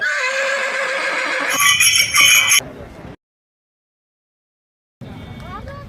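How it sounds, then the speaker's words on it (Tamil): Horses whinny loudly and close by at the Tiruvannamalai cattle and horse market during the Karthigai Deepam festival, two shrill calls in quick succession, then a pause of silence before fainter market noise returns. "இந்த அற்புதமான நாட்டு மாட்டு சந்தை குதிரை சந்தையை பற்றி யாருக்குமே தெரியாது"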